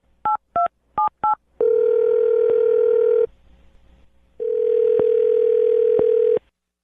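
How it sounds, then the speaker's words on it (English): Four quick touch-tone key beeps sound, then a steady telephone dial tone holds for a couple of seconds, drops briefly, and returns, loud and close with no talking. "I'm going to dial his phone number right now, okay?"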